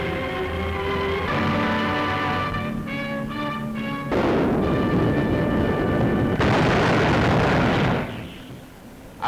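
Heavy WWII artillery barrage of Allied guns breaking through German defences near Cassino, a dense, continuous roar of booming blasts and bursts with no talk over it, fading out at the end.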